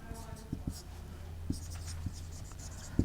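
A teacher writes during a science lesson on soil, with brief scratchy strokes of pen or chalk heard close and softly under ongoing speech.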